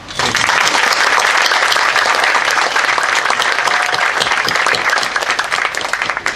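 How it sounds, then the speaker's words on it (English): An outdoor crowd at the dedication of an Ethiopian cultural garden in Cleveland breaks into loud, sustained applause that holds evenly for about six seconds, thick and continuous with no voices standing out. "One round of applause to everyone."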